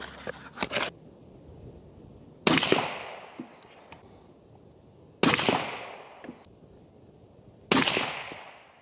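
Rifle shots from Hornady American Whitetail 129-grain ammunition crack out at a range, a quick cluster followed by three more evenly spaced single shots, each a sharp report with a trailing echo.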